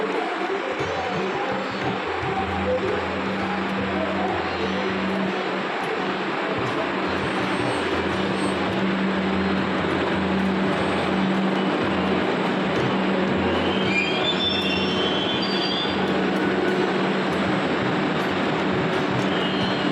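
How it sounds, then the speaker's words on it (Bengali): A metro train rumbles steadily for about twenty seconds into a station on the way to Dakshineswar, a low continuous drone with mechanical hum and occasional high squeals as it pulls in. "দেখতে পাচ্ছেন আমাদের মেট্রো চলে এসেছে"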